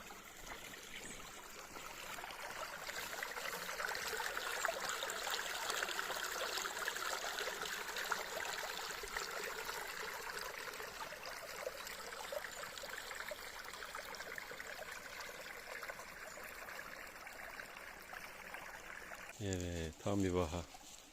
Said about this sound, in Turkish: Yazın kurak döneminde bile bu parlak ve temiz su akmaya devam eder.